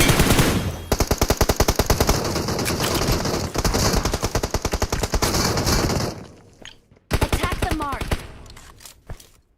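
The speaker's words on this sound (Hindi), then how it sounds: "तभी राइट साइड से भी फायर हुआ" Sustained automatic fire in BGMI, a long loud stream of rapid shots for about six seconds, then a short gap and a final burst with fainter scattered sounds trailing off.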